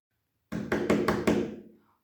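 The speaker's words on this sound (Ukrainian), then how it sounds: "хто це до нас стучить у двері?" Five quick, firm knocks on a door, evenly spaced and close, with a resonant hollow thud and a short decay afterward, heard alone against silence.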